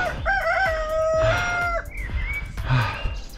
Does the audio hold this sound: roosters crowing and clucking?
yes